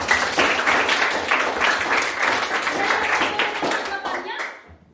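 A classroom of junior high school children clap together in a lively burst of applause that carries on for several seconds before quickly tapering off.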